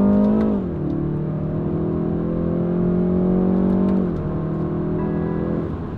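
Cabin view of a 2020 BMW 330i G20 M Sport as it downshifts and accelerates: engine revs rise steadily, drop at a gear change, then climb again, loud and close with no talk.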